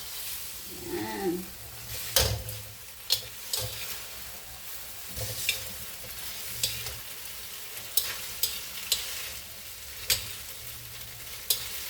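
Spaghetti and garlic stirred in a frying pan, a steady soft sizzle with repeated scraping clatters of the utensil against the pan, close and fairly loud throughout.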